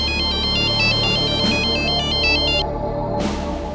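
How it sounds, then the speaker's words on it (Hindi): An electronic phone ringtone plays a repeating melodic pattern, loud and close, before cutting off. "दूसरे दिन एक और फोन कॉल ने इस सन्नाटे को चीर दिया।"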